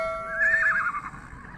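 A horse whinnies once at the Urzhar livestock market, a clear, fairly close neigh that rises and then trails off over a low background murmur.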